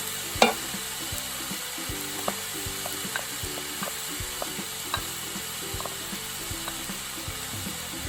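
Chicken fried rice tossed in a pan with soy and oyster sauce for Thai spicy fried rice: a continuous sizzle under repeated clicking scrapes of a spatula against the pan, steady and close, no talking.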